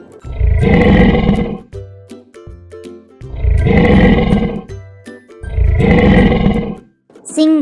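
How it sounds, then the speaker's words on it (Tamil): Three loud, deep lion roars come in a regular sequence, each swelling and fading with short breathy grunts between them, close and alone. "சிங்கம்,"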